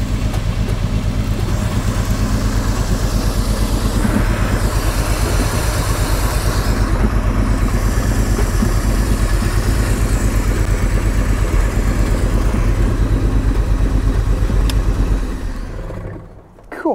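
A 1962 Jaguar engine that has sat for 15 years runs loud and close with a rough, uneven idle and steady low rumble, then cuts out near the end.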